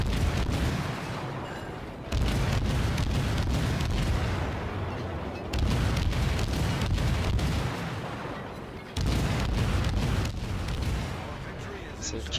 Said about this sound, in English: with 5-inch guns, gives you a bonus to your fire rate